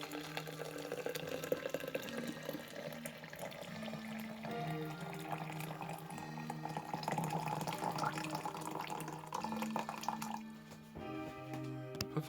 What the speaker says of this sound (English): it's time to add the water. Hot but not boiling. In she goes from the kettle.